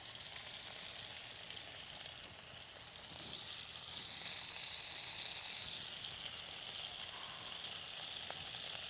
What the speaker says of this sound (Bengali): তেল গরম হয়ে গেছে, এবার আমি মাছ ছেড়ে দিচ্ছি।